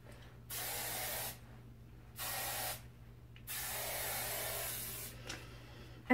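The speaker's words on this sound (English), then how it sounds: "if you try to continually spray it, it will instantly start clogging the nozzle" Aussie Instant Freeze hairspray sprayed from an aerosol can in three sustained hissing bursts separated by brief pauses, close and clear with no talking.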